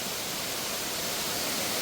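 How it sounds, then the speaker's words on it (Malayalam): Water from a waterfall near Adavi eco tourism in Pathanamthitta pours steadily in a broad, continuous hiss close by, with no voices. "ഇതാണ് വെള്ളച്ചാട്ടം."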